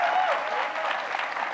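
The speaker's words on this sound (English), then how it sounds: "Deserve applause for that." Brief audience applause at a live graphics and gaming anniversary event, a steady patter of many hands clapping at moderate loudness.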